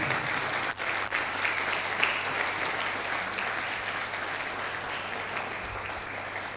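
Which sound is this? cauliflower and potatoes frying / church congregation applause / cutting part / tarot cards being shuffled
church congregation applause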